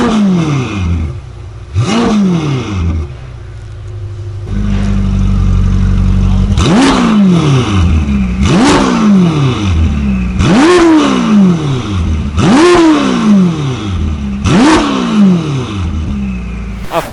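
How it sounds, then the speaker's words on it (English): A Ferrari F8 Tributo fitted with a Novitec exhaust system revs repeatedly and loudly, about seven sharp rising-and-falling blips spaced a couple of seconds apart over a sustained engine note, with no speech. "Let's listen to how the Ferrari F8 Tributo sounds with a Novitec exhaust system."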